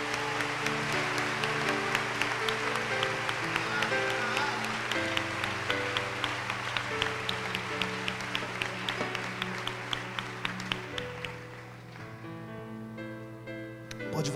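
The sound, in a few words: church congregation applauding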